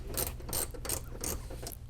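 A ratchet wrench fitted with a 10mm socket tightens screws on the windshield washer fluid reservoir of a 1990 Cadillac Coupe DeVille, giving five quick bursts of clicking at an even rhythm, close but fairly quiet.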